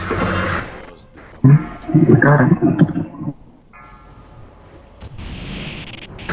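A loud, booming explosion in an online video game raid bursts out and rumbles for a couple of seconds, followed by quieter game sounds and a brief later blast.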